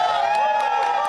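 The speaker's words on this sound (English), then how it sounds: "Hard to beat a crowd like this at Harry Carey's here at Navy Pier in Chicago." A crowd at Harry Caray's on Chicago's Navy Pier cheers and whoops loudly and continuously ahead of Monday Night Football, a dense roar of many voices close by.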